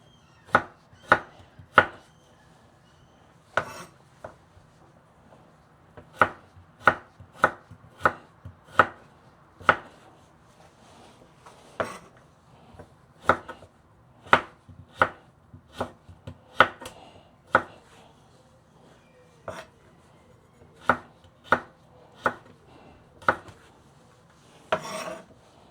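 A knife chops vegetables and spinach on a board in sharp, separate strikes, some spaced out and some in quick runs, close and clear against a quiet kitchen.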